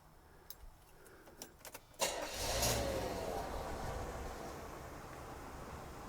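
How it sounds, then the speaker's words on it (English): A 1977 Chevrolet Impala 9C1 cranks briefly after a few key and handling clicks, then catches and settles into a smooth, quiet, steady idle close by. "I should start the car up here just so you can hear it run"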